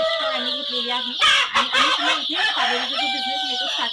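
Loud, close clucking and honking calls from large hens on a poultry farm, several birds overlapping in a noisy, continuous chorus.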